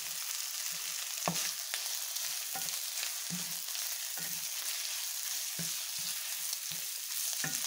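Sausage frying in a pan for a cheesy, creamy pasta: a quiet, continuous sizzle with scattered sharp crackles and pops, heard up close with no talking.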